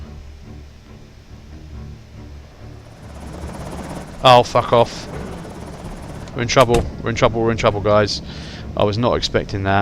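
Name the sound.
helicopter flying overhead in the video game Project Zomboid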